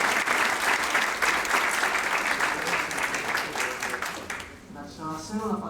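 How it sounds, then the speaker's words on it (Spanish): Dense, sustained applause from a crowd at a Mexican legal conference on procedural law, loud and continuous, thinning out near the end as voices and room sounds take over. "Pido un fuerte aplauso."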